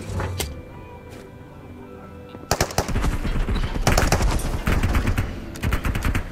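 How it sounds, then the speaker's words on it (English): A few scattered shots, then dense rapid bursts of automatic gunfire, including an Uzi, rattling continuously, loud and close, with brief gaps between volleys, in the video game Marauders. "So much gunfire."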